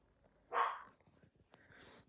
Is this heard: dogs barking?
yes